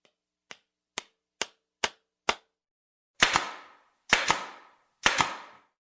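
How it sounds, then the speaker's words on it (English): Compressed-air nail gun driving nails into wood: five sharp, evenly spaced single shots, then three louder double-bang shots with short ringing tails, close and alone. "it's a gun for putting nails in wood"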